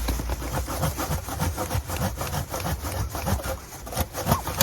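Close, steady back-and-forth strokes of a hand saw cutting through a rosemary branch in a backyard garden, a rough rasping rhythm throughout.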